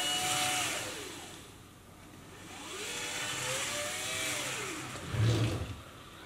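A BB-8 droid on Cary's V3 drive rolling forward and back, a faint whining motor that rises and falls in pitch as it moves, with a soft bump near the end and no talk.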